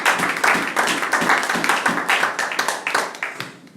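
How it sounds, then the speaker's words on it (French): A church congregation applauds during a bilingual French and English worship service, dense rhythmic clapping that comes in steady pulses before tapering off at the end. "Applaudissez pour le Seigneur de la gloire."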